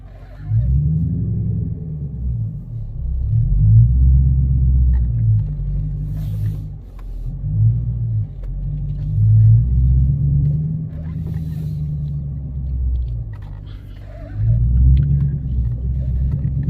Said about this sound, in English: You get to drive and handle this massive V8 car